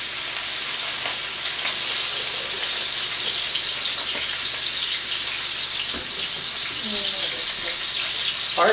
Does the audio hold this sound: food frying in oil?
yes